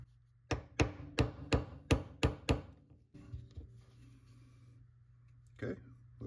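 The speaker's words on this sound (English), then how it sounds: "just drive this the rest of the way with a brass punch" A brass punch hammered onto a Ruger 10/22 firing pin resting on a bench block: seven sharp, evenly spaced metallic strikes up close, then quiet handling noise and one last tap.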